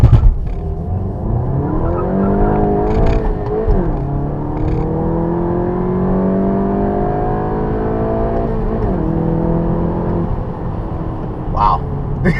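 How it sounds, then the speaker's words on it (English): A 2016 BMW 328i xDrive launches hard from a dig, its engine loud and close, climbing in pitch and dropping briefly at two gear shifts before pulling steadily again. "I'm gonna do a launch from this car from a dig."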